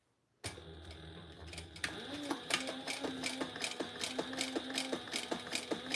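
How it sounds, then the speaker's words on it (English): Sewing machine stitching after a brief start-up, a close, rapid rhythmic ticking and whirring that runs steadily, with a short pause in between. "I am going to sew here, starting here and down and around."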